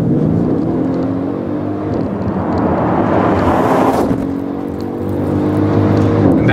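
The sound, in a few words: Mercedes ML 63 AMG engine accelerating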